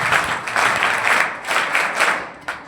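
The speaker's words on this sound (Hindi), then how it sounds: "बड़ी ताली बजा के स्वागत करेंगे।" An audience at a school board-exam honours ceremony breaks into brisk, dense applause that lasts a few seconds before tapering off.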